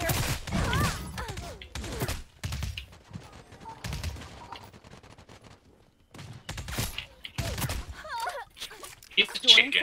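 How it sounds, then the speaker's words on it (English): Gunfire in Realm Royale crackles in scattered bursts, some loud and close, while people talk over it. "I hear gunshots."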